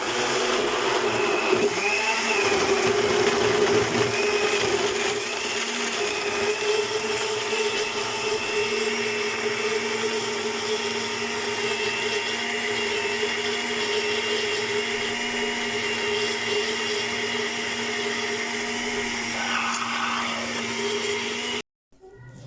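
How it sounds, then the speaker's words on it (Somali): A blender grinds juice loudly and steadily for about twenty seconds, with a constant high whir, then cuts off abruptly at the end. "juuskeeni waan soo shiidanay"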